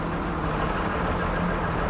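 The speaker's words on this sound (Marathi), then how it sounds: "बघा ना, तिन्ही गाडी एकदम रिव्हर्स चालल्या." Several buses reversing together at the Gangakhed bus stand, a steady loud rumble of idling diesel engines with a low droning hum throughout, no talk.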